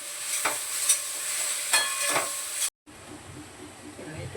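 Tempering of green chilli and cumin sizzling in hot oil for a pot of dal: a bright, hissing sizzle with a few stirring scrapes, which then cuts out and gives way to a softer, quieter bubbling hiss.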